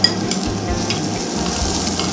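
An onion placed on a hot grill beside beef, giving a continuous close sizzle and crackle with a few light stirring sounds, without any voices.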